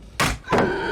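Two heavy thuds from the Dead by Daylight video game as Bubba is stunned by a wooden pallet: a sharp crashing impact followed by a second hit, close and loud, with no talking.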